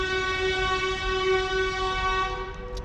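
A train horn blares in a long, steady, loud chord for nearly three seconds, with the low rumble of rail cars running beneath it and no talking.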